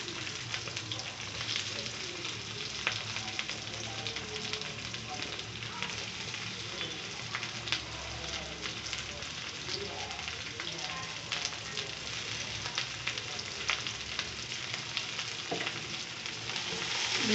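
Small shallots frying in hot oil in a pan, giving a steady close sizzle with dense crackling pops that continues evenly throughout, with faint background sounds.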